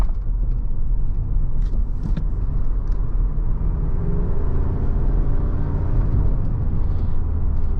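A 2023 Chevrolet Suburban Premier SUV takes corners with a steady low rumble of engine and road noise heard from inside the cabin, loud and continuous with a faint whir rising partway through.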